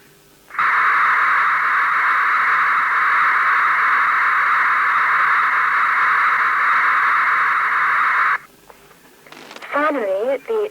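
Datel 600 modem sending continuous data at 1200 bits per second, a loud steady band of hissing, buzzing tone that holds for about eight seconds and cuts off sharply, followed by a short burst of a voice after a pause.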